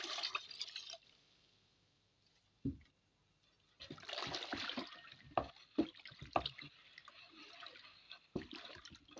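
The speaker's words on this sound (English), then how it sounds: "I'll just add the remaining alcohol to it." Alcohol poured into a batch of homemade Dettol-style antiseptic liquid, heard as intermittent splashes and drips of liquid with brief bursts and pauses, fairly close and moderately loud.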